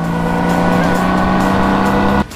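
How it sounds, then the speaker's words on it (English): Speeding cars racing on the Autobahn in the video game Crash Time 4, loud steady engine roar with squealing tires that cuts off abruptly near the end. "2 speeding vehicles are disrupting traffic and causing more accidents"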